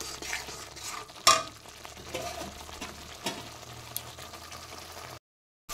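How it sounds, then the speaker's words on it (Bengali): Spicy fish curry masala sizzles in a pan as it is stirred and sautéed, a continuous frying hiss broken by spatula scrapes, one loud clatter early on and a brief silent gap near the end. "দেখো আরও 1 মিনিট আমি ভালোভাবে মশলাটা কষিয়ে নিয়েছি।"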